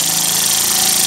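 A home-built vertical steam engine with a spool valve, run on about 8 pounds of pressure on a workbench, chugs fast and loud in a steady, dense hammering rhythm that fills the whole clip with no speech.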